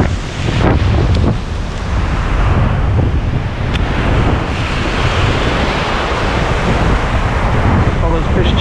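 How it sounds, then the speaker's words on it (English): Strong wind buffets the microphone over crashing ocean surf on a Galveston beach, a loud, continuous roar with waves breaking throughout. "that wind is picking up"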